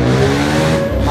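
A vehicle engine revs hard in a short, loud, steady burst with a rising harmonic drone, heard close by.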